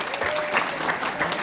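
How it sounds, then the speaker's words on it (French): Applause from an audience at a workplace medal ceremony, a steady wash of clapping hands with no letup, close and fairly loud over its short length, with a voice faintly mixed in. "On applaudit fort Alexis"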